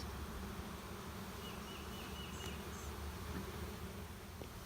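A steady, dense hum of many honey bees buzzing nearby during installation of a bee package, continuous and even, with no voices.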